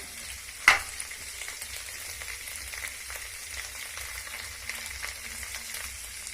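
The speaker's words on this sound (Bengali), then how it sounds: "এটা কষতে কষতে আমি এর মধ্যে দিয়ে দেব 1 চামচ হলুদ গুঁড়ো" Bottle gourd and mung dal with ginger and cumin paste sautéing in a pan, a quiet steady sizzle with one sharp clack near the start and faint scrapes after.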